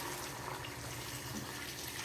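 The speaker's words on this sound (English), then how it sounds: "warm water from the kettle" Warm water pours steadily from a kettle into a Dutch pot of oxtail stew with bay leaf and escallion, a brief continuous splashing trickle, close and moderately quiet with no talking.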